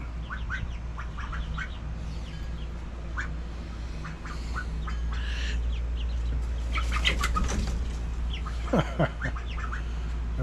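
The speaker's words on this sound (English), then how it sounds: "What are the chicks up to? Oh, ducks and chicks." Ducks and chicks lying around a roost area with roosting bars, giving scattered quacks and chirps over steady low background hum, with some wing flapping and a louder burst of calls near the end.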